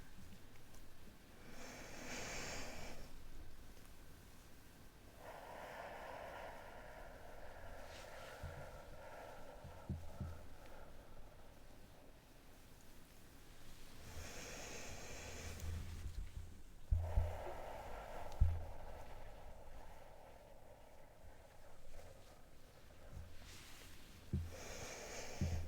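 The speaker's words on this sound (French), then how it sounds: "On va prendre 3 respirations" Three slow, deep relaxation breaths, each a long, soft, airy inhale and exhale, close and intimate at low volume, with faint rustling between them.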